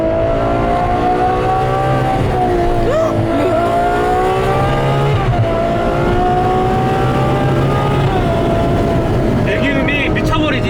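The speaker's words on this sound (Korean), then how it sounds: "배기음이 미쳐버리지 이게. 이 배기음 때문에 타는 거야." A Ferrari 812 Superfast V12 in race mode, driven through city streets, with its loud exhaust rising and falling through continuous revs and gear changes, close and dominant.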